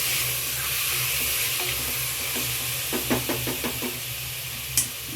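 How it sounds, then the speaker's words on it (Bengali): Mutton stirred into fried onions inside a pressure cooker, a steady sizzle with several scraping spoon knocks against the metal pot toward the end. "এবার মটনটা দিয়ে আমি একবার ভালো করে নাড়াচাড়া করে নেব।"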